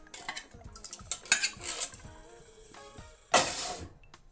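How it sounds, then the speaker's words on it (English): A utensil scrapes and clinks against the inside of a metal can of diced tomatoes in a home kitchen, giving short scraping strokes and taps, then a brief louder metallic rattle near the end. "A can of diced tomatoes. Make sure I get all that out."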